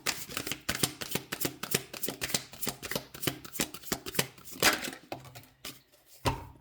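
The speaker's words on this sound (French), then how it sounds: "je prends le Light Cheers Tarot." A deck of Light Cheers Tarot cards is shuffled up close, giving a rapid run of crisp riffling clicks and taps with no voices.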